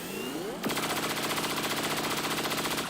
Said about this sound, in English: And then have him shoot that mech.